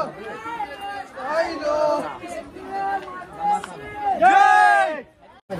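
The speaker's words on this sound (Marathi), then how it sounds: "ही एवढी गर्दी आहे आज रविवार असल्यावर" A busy temple crowd on a Sunday, loud overlapping chatter and calls from many people close by, with individual voices rising above the general babble.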